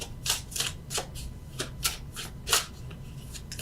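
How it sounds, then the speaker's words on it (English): Tarot cards shuffled and drawn by hand during a love reading: a string of soft, papery riffles and slaps in uneven bursts, close and fairly quiet, with no talking. "let's get one extra card for the general"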